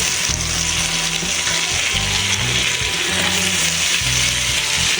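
Cut potato pieces fry in oil with cooked spices, giving a loud, steady sizzle close by, mixed with faint clattering from the pan.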